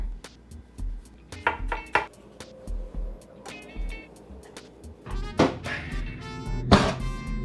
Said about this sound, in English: Then, roughly chop up some garlic.